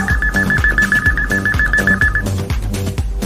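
A telephone rings with a rapid, repeating electronic trill that is loud and close, running steadily for a couple of seconds over a rhythmic backing beat.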